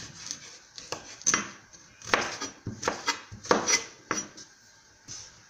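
A knife slices through garden egg on a board for African salad, giving a string of irregular crisp cuts and taps, close and moderately loud, with no voices.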